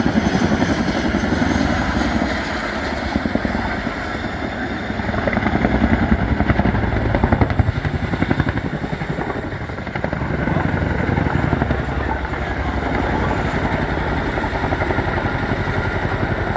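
Chinook twin-rotor helicopter performing a flying display at the Cosford airshow in the UK, a loud, steady rotor thump and engine roar that swells and eases slightly throughout, with faint commentary underneath.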